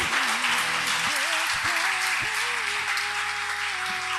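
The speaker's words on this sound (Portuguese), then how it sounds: "Pode aplaudir o Senhor Jesus" Church congregation applauding at a Sunday service, a steady dense wash of clapping that holds throughout while a sustained tonal voice or instrument line wavers over it.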